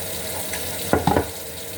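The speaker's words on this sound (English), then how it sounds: "I will add more purified water" Purified water is poured into a rice cooker's inner pot, producing a brief splashing burst with a couple of quick sloshes over a steady background hiss.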